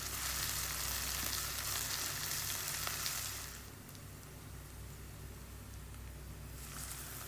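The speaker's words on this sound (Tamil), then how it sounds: "இஞ்சி பூண்டு விழுதும் இதோடவே சேர்த்து நல்லா வதக்கிடலாம்." Ginger garlic paste and mint sautéing in a pan, a steady close sizzle and fry that eases slightly partway through, with no talking.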